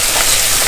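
Yogurt paste mixed with dry spices fries in a pan while being sautéed, giving a loud, steady, close sizzle with no talking.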